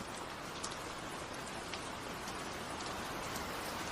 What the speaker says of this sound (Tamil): அன்னைக்கு ராத்திரியே காட்டுல மிகப்பெரிய மழையும் புயலும் அடிச்சிச்சு.